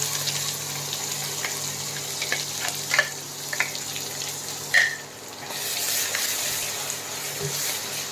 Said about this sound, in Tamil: இஞ்சி பூண்டு பச்சை மிளகாவுடைய வாசனை வந்து கொஞ்சம் போகிற வரைக்கும் நம்ம வந்து இதை கொஞ்சம் வதக்கணுங்க